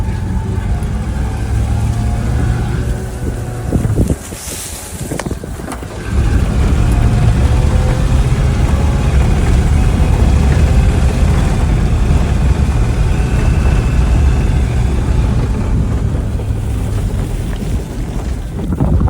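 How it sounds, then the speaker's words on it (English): A 1985 V8 Range Rover off-roader engine rumbling and revving, a loud steady low drone with wind buffeting, briefly dipping mid-way before picking back up and holding for a long stretch. "If you said 1985 V8 Range Rover off-roader"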